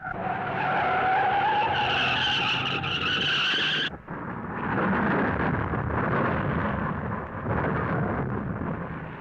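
A race car's tires screech in a long, loud skid as it loses control in traffic at the 1970 Darlington Southern 500, followed by a roaring, rumbling slide with engine and crowd noise, no talk.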